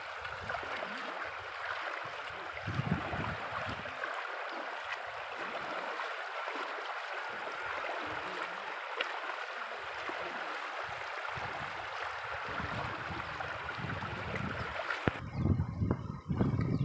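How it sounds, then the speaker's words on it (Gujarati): Floodwater flowing across a waist-deep flooded road into a village, a steady rushing wash of water heard up close and fairly loud throughout, with no talking. "કમર સમાણા પાણી છે અહીંયા."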